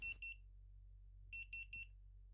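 A handheld hidden camera detector gives short, bright electronic beeps in a quiet rental living room: one pair of beeps, a pause, then a quick run of three more, close and clear over a low steady hum.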